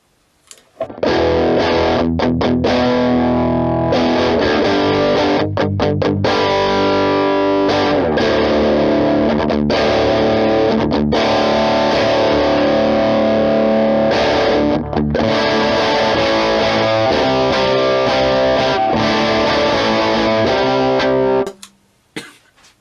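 An electric guitar runs through a modded modern Marshall amp on the OD2 channel in green mode, giving loud, saturated, dark-toned distorted chords and riffs that ring continuously for about twenty seconds before stopping, with no voices.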